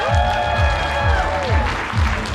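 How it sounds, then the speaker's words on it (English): Applause from a convention crowd at a charity auction, a dense steady wash of clapping under a tonal sweep and a rhythmic low thump, with no clear voices over it. "How about a huge round of applause, please,"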